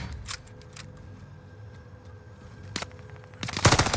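Sharp gunshots from a video game shootout ring out, with a few scattered shots early on and a heavier, louder burst of rapid fire closing the stretch, with no talk over it.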